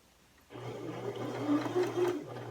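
A sewing machine runs a zigzag stitch along the outer shell edges of a fabric library tote bag, starting abruptly after a short quiet and humming steadily for about two seconds with a rattling buzz, close and alone.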